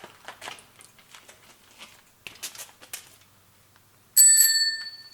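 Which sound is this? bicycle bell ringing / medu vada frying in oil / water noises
bicycle bell ringing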